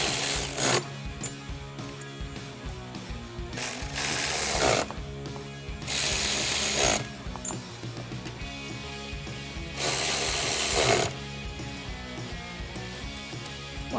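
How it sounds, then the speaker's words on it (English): A ratchet tightens the throttle body bolts on a 2015-2017 Ford Mustang EcoBoost fitted with a Ford Performance 70mm billet throttle body, in rapid close metallic clicking bursts interrupted by louder rasping swings, repeated several times. "now we're gonna go through and tighten all of these down"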